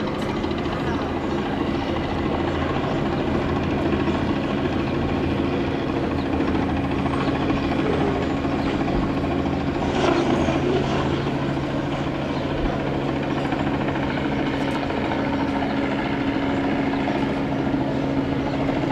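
A helicopter's loud, continuous rotor drone fills the scene at a powerboat race, steady throughout, with voices faintly mixed beneath.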